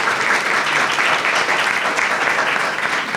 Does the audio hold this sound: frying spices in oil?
no